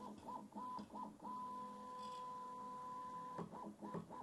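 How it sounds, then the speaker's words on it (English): A Prusa MK4 3D printer runs its motors during calibration, a steady electronic whine holding one pitch for about two seconds between shorter stepping buzzes and soft bumps, close and fairly quiet, with no talk. "it's doing this little thing where it goes up to the top of the printer to align both of those motors"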